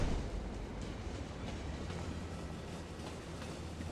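A tram ride in the city-building game Cities: Skylines, a steady, even rumble of rolling rail wheels with faint clickety-clack, continuous and close throughout.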